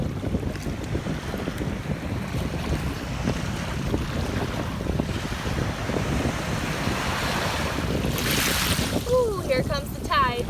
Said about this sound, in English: here comes the tide coming in